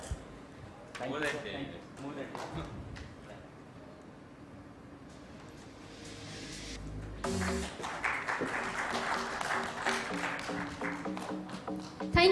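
A hall audience at a medical stroke symposium breaks into a loud, sustained round of applause in the second half, after a stretch of quieter speech and room noise.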